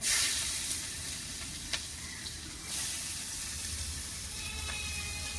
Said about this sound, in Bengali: দেখো আমি প্রথমে কিন্তু পেঁয়াজ কুচিটাই দিয়ে দিচ্ছি